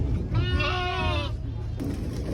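A sheep or lamb at a livestock market in Kyzylorda gives one long, wavering bleat lasting about a second, close and clear over a steady murmur of crowd and yard noise.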